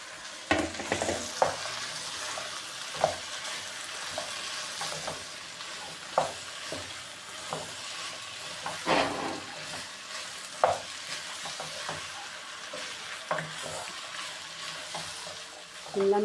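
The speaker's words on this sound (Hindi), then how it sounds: "शिमला मिर्चों को भी हम कीमे के साथ अच्छे तरीके से भूनेंगे।" Capsicum and minced meat frying in a pan, a steady sizzle broken by repeated stirring scrapes and clinks of a spoon against the metal, close and fairly loud with no talking.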